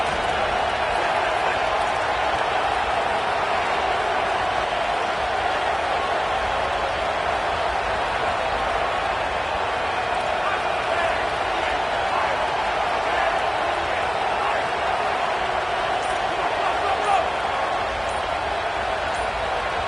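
A stadium crowd at a college football game during a third-and-short near the goal line roars in a steady, loud wash of noise for the whole stretch, with a commentator talking over it.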